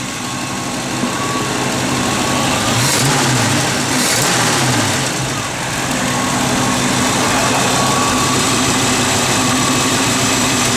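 A 1966 Ford Mustang engine idling with a steady, even rumble, close and constant throughout.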